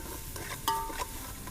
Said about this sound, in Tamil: வெங்காயத்தை கொஞ்சம் ஃப்ரை பண்ணிடுவோம்